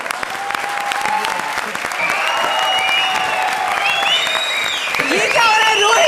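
A comedy show studio audience claps and cheers under loud overlapping voices, with bright shouts and whoops rising above the sustained applause.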